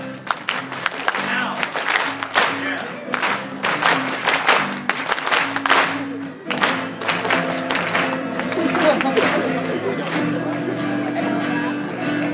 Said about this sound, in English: You have a clapping part coming up.